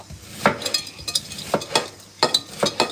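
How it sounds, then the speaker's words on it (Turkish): Chocolate cake batter stirred in a bowl, the utensil scraping and clinking against the sides in a series of short, close strokes with brief gaps between them. "Karıştır karıştır"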